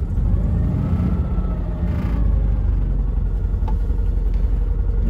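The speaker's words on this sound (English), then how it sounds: "Let's put it in reverse." A Citroen 2CV reverses, its small engine giving a steady, loud low rumble and whir close by with little change in pitch, no one speaking over it.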